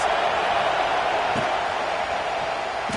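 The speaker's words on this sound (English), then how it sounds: "Listen to this crowd just shaking the girders of this place trying to help their defense." A stadium crowd at a college football game between Ole Miss and Mississippi State makes a broad, sustained roar of cheering that holds steady throughout, with faint sharper bursts near the middle and end.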